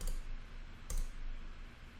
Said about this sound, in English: I'm going to right click and hit delete.